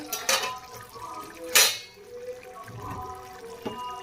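A lid is lifted off a pot of simmering potato and tofu curry, giving a short metallic clank followed by a louder clatter and faint bubbling in a quiet kitchen.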